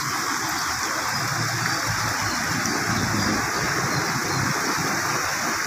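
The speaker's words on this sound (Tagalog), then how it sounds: "Kahit na malakas ang agos, konti lang naman ang tubig." A strong river current rushes steadily and loudly with no break, a dense broadband wash of flowing water filling the whole clip.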